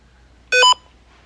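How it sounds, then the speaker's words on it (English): A single short electronic beep, loud and close, stands out sharply against a quiet room tone and lasts a fraction of a second. "I'm getting a beep, but I'm not seeing it."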